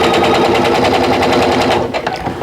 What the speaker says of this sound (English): I'm going to slow down, make sure I'm sewing one needle width to the right